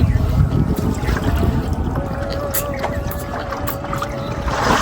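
A boat moves over water with a steady engine-like drone and splashing, wind noise on the microphone, and occasional voices in the background.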